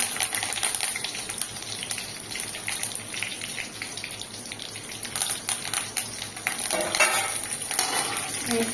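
Dried red chillies and curry leaves fry in hot oil, a steady close sizzle and crackle with occasional stirring, brightening and intensifying toward the end.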